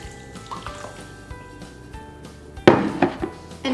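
Whole milk poured into a bowl with sugar for homemade ice cream, a short gurgling splash that starts after some quiet handling noises, close and moderately loud.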